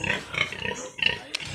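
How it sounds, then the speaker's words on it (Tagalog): A boar pig on a Philippine farm grunts in a run of rough, close grunts, with a brief pause before a few more snorts. "Yung isang yung barako."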